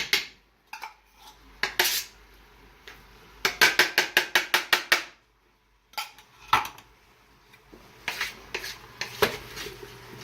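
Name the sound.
stirring beef stew in a pot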